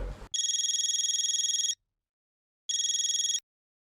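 A telephone ringtone rings in two electronic bursts, a long ring followed after a pause by a shorter one, loud and close in an otherwise quiet Indian household scene.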